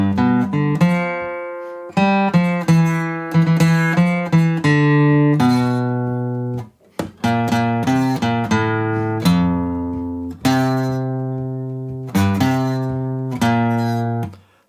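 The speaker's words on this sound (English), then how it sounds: "My guitar is in standard tuning and the first line sounds like this." An acoustic guitar in standard tuning plays the opening line of a song, clear plucked notes and ringing chords in a steady rhythm, loud and close with no talking.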